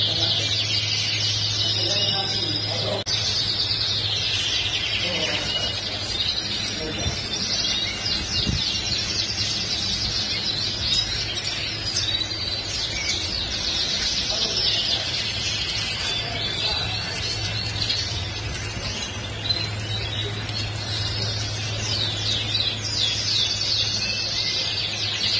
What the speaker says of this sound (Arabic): على التغريد، ريد بلاك اوروبي، طيور كلها فواله مثل ما تشاهدون وتسمعون